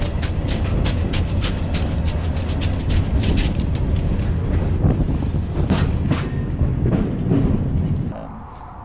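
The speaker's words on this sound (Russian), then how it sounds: "Здесь совсем другие типы вагонов, не такие, как в России." Train wagons clatter steadily over rail joints in a continuous, loud, close rumble with rhythmic clicks, then the noise drops abruptly near the end; faint voices may sit underneath.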